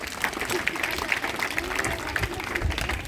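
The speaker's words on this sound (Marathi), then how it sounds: "या प्रसंगी आपण सर्वांनी टाळ्या वाजवून त्यांचं स्वागत करायचं" Audience applause fills a welcome for guests at a district-level kabaddi competition event in Latur, a dense steady clapping that runs loud and unbroken throughout.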